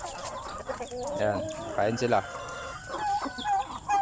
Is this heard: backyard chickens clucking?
yes